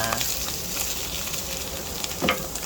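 Canned mushrooms sauté in a pan with a steady close sizzle, and brief scrapes of stirring rise over the frying.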